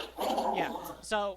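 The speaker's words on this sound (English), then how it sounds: "No, sorry, that's just my dog." A pet dog growls and lets out a short whimper close by, partly under a man's speech, ending in a brief whiny yelp.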